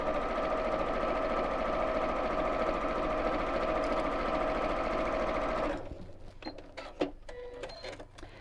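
A sewing machine stitches fabric lining for a dog treat bag in a fast, steady whir for several seconds, then stops, followed by faint clicks and handling sounds.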